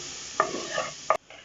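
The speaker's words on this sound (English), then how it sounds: "Oh, sizzle. I said that pan was hot, didn't I?" Close, loud sizzling of food frying in a hot pan while making pea and ham soup, with a couple of scraping clicks as it is stirred, then the hiss drops away.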